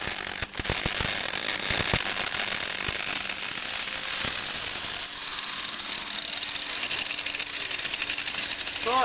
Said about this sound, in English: So I think I'll take the bike outside now and start welding them on